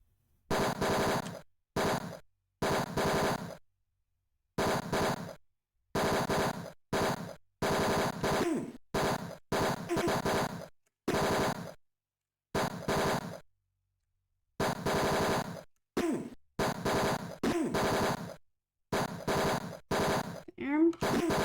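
Video game gunfire from the Tex Murphy: Mean Streets (1989) shooting segment, with repeated loud bursts of synthesized rapid fire broken by short silences, steady and harsh throughout.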